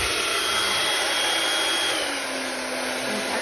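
An 1800-watt professional salon negative ionic hair blow dryer runs steadily at close range, a loud continuous fan whoosh with airy hiss and no talk over it.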